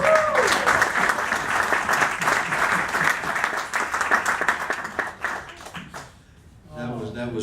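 Audience applauding after a gospel song performed on a small stage, dense sustained clapping from a crowd that fades out near the end, with voices talking over it.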